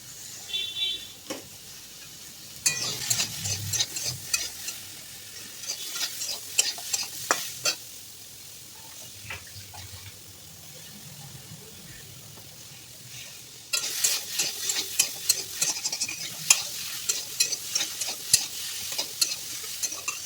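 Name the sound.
green chilies frying and stirred in pan for sukto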